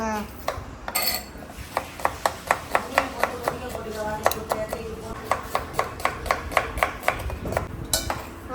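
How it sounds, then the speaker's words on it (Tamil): Onions are chopped for biryani in a home kitchen, a rapid run of crisp knife strikes on a board that starts sparse and settles into a steady, even rhythm, with brief voices and a clatter of utensils nearby. "பிரியாணிக்கு வெங்காயம் கட் பண்ணுறோம்"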